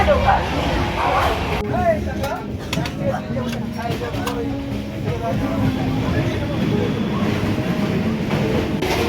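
Steady rumbling of a moving Ajmer Express carriage near Durgapur, with rhythmic rattling and clatter, while people talk in the foreground.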